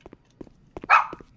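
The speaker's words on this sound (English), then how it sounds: "Shut up, you stupid dog." In the Garry's Mod video game, a dog lets out a single sharp, moderately loud bark, accompanied by a few soft clicking footsteps before and after it.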